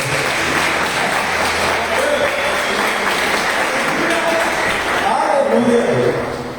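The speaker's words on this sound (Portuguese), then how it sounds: "Uma salva de palmas." A church congregation applauds loudly and continuously, with voices mixed into the clapping and tapering slightly at the end.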